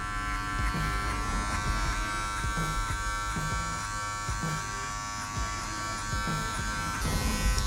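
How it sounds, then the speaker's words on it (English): Wahl Magic Clip hair clippers buzz steadily while cutting hair with the taper lever fully open, a close, continuous electric hum with faint snipping texture and no talking. "Now, Wahl magic clips, taper lever all the way opened."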